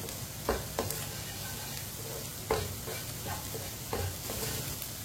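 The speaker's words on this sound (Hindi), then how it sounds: "अंडे डाल के 2-3 मिनट के लिए पका लेना, ऐसे ही चम्मच चलाते हुए" Eggs cooking in a pan with okra while a spoon stirs them, giving repeated scraping strokes over a soft continuous sizzle, close and fairly quiet.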